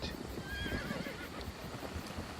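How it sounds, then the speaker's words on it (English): Horse in a video game neighing with a rising whinny over steady clip-clop of hooves, fairly close and continuous, with no talking. "I will hop on my horse here"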